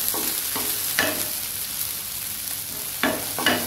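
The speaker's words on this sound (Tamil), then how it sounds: "இந்த பீக்கங்காயும் போட்டு 1 உணக்கம் உணக்கிக்கலாம்." Ridge gourd and sliced shallots sauté in a pan, a steady soft sizzle punctuated by several sharp scrapes and stirring clatters from a utensil, close and alone without talk.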